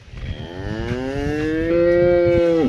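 A cow moos loudly during milking, a long rising call with a strong harmonic tone lasting over two seconds and ending abruptly, close to the listener with no talk over it.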